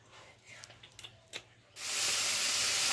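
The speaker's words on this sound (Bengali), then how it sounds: "আমি আর একটু তেল দিয়ে দিচ্ছি, মাছ ভাজবো এখন।" Oil poured into a hot pan before frying small puti fish, after eggplant was fried: a few light clicks, then a sudden loud, steady hissing sizzle that continues to the end.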